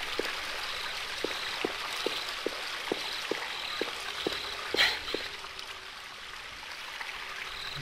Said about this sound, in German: Ich muss aber mal weg von dem Brunnen. Das ist mir viel zu laut in der Nähe von diesem Geplätscher.